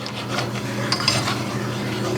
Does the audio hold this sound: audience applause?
no